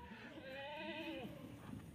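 A goat bleats once on a goat farm, a faint, wavering cry lasting about a second over a low background hum.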